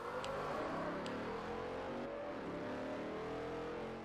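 Dodge Challenger in the Forza Horizon racing game, its engine droning and climbing steadily in a sustained rev, loud and close with a faint whir underneath.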